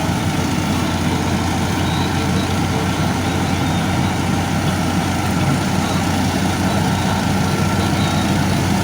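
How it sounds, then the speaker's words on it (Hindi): A tractor-driven chopper machine making straw fodder runs loud and steady, its heavy engine drone and dense mechanical churning continuous throughout with no pauses. "ये मशीन चापर कहलाती है।"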